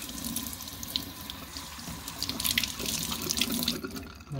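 Tap water runs steadily into a sink to wash a vape coil, a continuous close splashing stream that fades near the end, with no talk.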